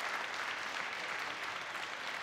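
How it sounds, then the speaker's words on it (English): A squash crowd gives a standing ovation after the Tournament of Champions 2017 first-round match, a dense, steady roar of clapping that fills the whole stretch at an even level with no talk over it. "Well, it's a standing ovation here."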